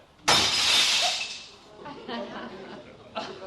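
Glass shatters loudly and close at once, a bright crash that rings on for about a second in a house during a family comedy scene, followed by quieter movement and faint voices.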